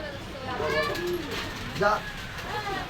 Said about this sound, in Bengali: দেশি বিদেশি সব ধরনের কবুতর আছে